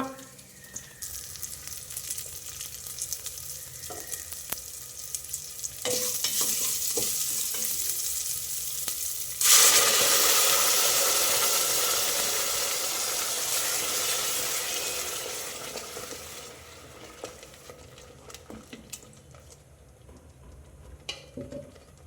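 Ground spinach paste is tipped into a hot pressure cooker and bursts into loud, steady sizzling that swells suddenly midway, then slowly fades amid clinks of stirring.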